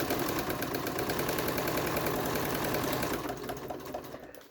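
A sewing machine stitches a zippered taco bag at a 2.5 stitch length, giving a fast, even mechanical chatter close to the microphone that runs steadily and then eases slightly at the end.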